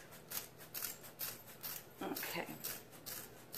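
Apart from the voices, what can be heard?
scissors cutting wine barrel material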